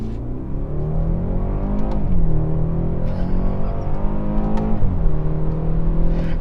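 A 2017 BMW 330i xDrive's turbocharged engine pulls hard in first gear, its note climbing steadily, dropping briefly at a shift around two seconds and again near five, heard up close from inside the car without talk.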